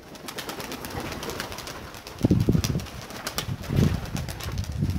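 Armenian fighting pigeons at their loft, coo after coo in close, low murmuring bursts, with faint rustling and movement in the background.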